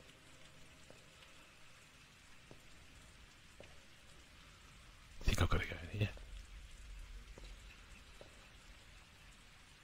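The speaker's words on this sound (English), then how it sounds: "I can hear rain" Steady rain patters and hisses throughout in the video game Pathologic 2, with a short burst of talking partway through.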